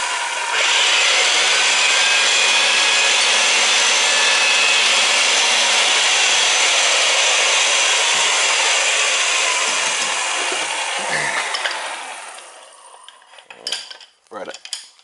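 A loud, steady grinding rasp of a reamer working inside a metal pipe end during a whole-house generator installation, running continuously for about twelve seconds before trailing off into a few scattered scrapes and knocks.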